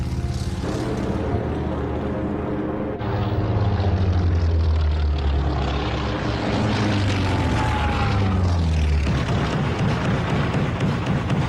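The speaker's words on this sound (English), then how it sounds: "and then take off to attack the Japanese fleet. Torpedo Squadron 8 will strike first." WWII propeller aircraft of Torpedo Squadron 8 taking off, a loud, steady engine drone that rises and shifts in pitch as the planes roll out, heard alone without talk.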